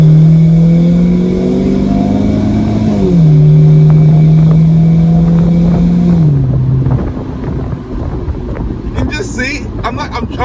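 BMW 1 Series E88 convertible driving with the roof down, engine revving loudly and close under heavy wind rush, the pitch climbing, dipping and holding before easing off, with a voice speaking over it.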